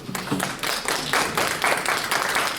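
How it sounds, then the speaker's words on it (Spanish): Audience applause greeting Dr. Betancourt as she is introduced at a lecture, a dense, steady wash of many hands clapping that holds evenly for a couple of seconds. "Recibamos a la doctora Betancourt con un aplauso"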